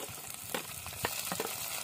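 Tomato going into frying onions in a pan for a Malvani-style cashew usal, a dense, close sizzle with a few quick stirring scrapes.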